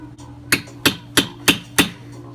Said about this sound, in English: I'm just going to use a center punch, which is going to make it easier to drill my holes. And I'm going to put it into the metal here.